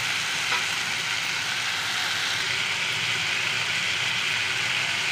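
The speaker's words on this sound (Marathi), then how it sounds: "थोडीशी कोथिंबीर, छान परतून घेऊया।" Onion-tomato chutney with salt, coriander seeds, red chilli, garam masala and fresh coriander sautéing in a pan gives off a steady, even sizzle that holds for the whole stretch, close and moderately loud with no talk.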